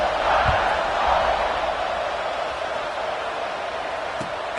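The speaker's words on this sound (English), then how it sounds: "this crowd now ready to get behind them" Football stadium crowd at an Ohio State versus Alabama game just before kickoff, a broad steady roar of many voices filling the space, continuous and fairly loud with no single voice standing out.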